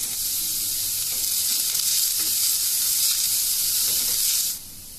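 Onion, garlic and curry leaves sauté in hot oil for a Kerala potato dish, making a bright, continuous hiss and sizzle close by that holds steady, then drops off abruptly near the end.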